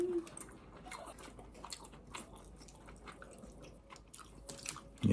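Close, wet chewing and soft biting of gimbap with carrot rapée and egg, dipped in tteokbokki sauce, a steady mouth-noise rhythm over about five seconds with no talk.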